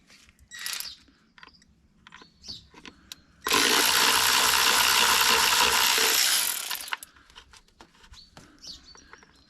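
Four Phillips head bolts being unscrewed from the air box of a 2001 Yamaha 63D 40 hp two-stroke outboard: a few small clicks and taps, then one loud sustained burst of rasping mechanical noise lasting about three seconds, close up.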